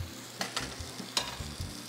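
Fish sears in a hot frying pan in a studio kitchen, a continuous close sizzle broken by scraping stirs and utensil knocks against the pan.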